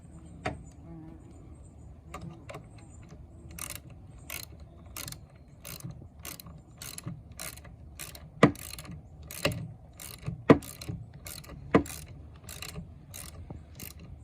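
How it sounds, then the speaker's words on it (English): A ratchet snugging a bolt on a Kawasaki 1100 STX steering column: a regular series of crisp clicks, close and moderately loud, with a few heavier clanks among them and no talk. "let me get your ratchet and snug it up."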